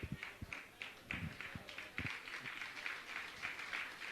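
An audience applauding continuously at a religious discourse, forming a dense, steady wash of clapping with a few louder nearby hand claps standing out, somewhat distant and muffled.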